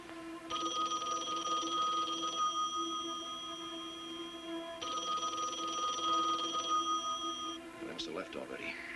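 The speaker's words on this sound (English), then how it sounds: "You keep on the phone. When Chrissy answers" An old telephone rings in two long electronic bursts with a short pause between, loud and close, followed by a brief rustling clatter, from a 1974 TV horror film.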